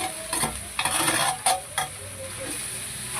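Goat tripe (boti) fries in a pan and is stirred with a utensil, giving a steady sizzle broken by several scraping strokes against the pan, close and fairly loud, with no talking.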